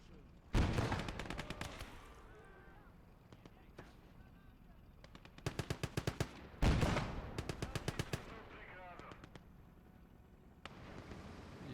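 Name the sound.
machine gun fire of towed 2cm flak guns, Gates of Hell video game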